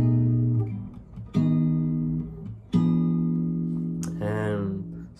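Guitar chords from a song ring out alone. Three or four sustained chords are struck, each left to decay slowly, and a short vocal-like sound comes near the end.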